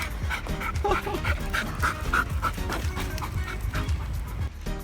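Pixie, a dog, pants hard in quick, rhythmic breaths close by after chasing a rabbit on a humid morning walk, while a person talks over it.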